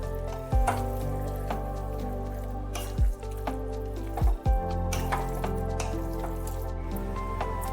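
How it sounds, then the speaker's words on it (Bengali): Mung dal stirred together with potato and cauliflower in a pan, giving soft wet squishing and dripping sounds with a few sharper clinks of the spoon, quiet and close. "এবার ডালটা ভালোভাবে আলু কপির সাথে একটু মিশিয়ে নিতে হবে।"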